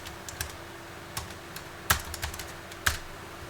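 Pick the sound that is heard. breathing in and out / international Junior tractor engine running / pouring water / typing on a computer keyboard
typing on a computer keyboard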